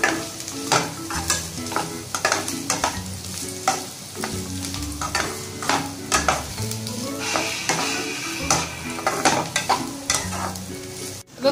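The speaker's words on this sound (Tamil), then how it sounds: "பண்ணி வச்சிருக்க சிக்கன் சேர்த்து நல்லா மிக்ஸ் பண்ணிக்கலாம்." Chicken and cabbage sizzle in a hot pan for chicken fried rice while a spatula scrapes and tosses them in quick, irregular strokes, loud and close, with no talk.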